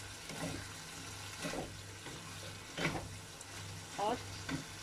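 Julienned capsicum stirred in a pan with a little leftover water for a chicken kathi roll, faint sizzling under intermittent scraping stir strokes, quiet and close.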